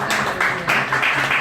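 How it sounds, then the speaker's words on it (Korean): A church congregation applauds its accompanist after a service song, a brief burst of dense clapping from many hands filling the room. "열심히 수고한 반주자한테 박수."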